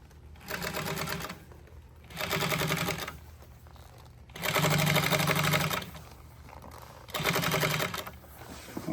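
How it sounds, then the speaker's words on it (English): A sewing machine stitches marine boat seat upholstery in four separate bursts of rapid, even stitching. Quieter pauses fall between the runs, and no one speaks. "plant your needle before you ever walk away from your machine"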